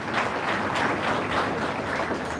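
Audience applause fills a hall after winners and participants receive certificates and cash prizes at a judiciary lecture event. The clapping is a dense, steady wash that stays even throughout.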